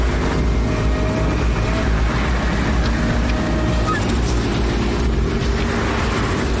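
A vehicle driving off, with loud continuous engine roar and rumble filling the scene without a break.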